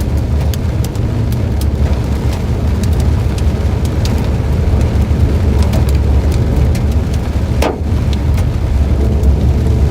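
Rain pours steadily during a Texas Panhandle hailstorm, a dense continuous wash mixed with the low rumble of a car engine nearby, with one brief sweeping tone near the end.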